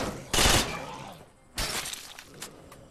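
Gunfire in the zombie survival game State of Decay: a loud, sharp burst of shots, then a second blast about a second later and a fainter report after it, all close and harsh.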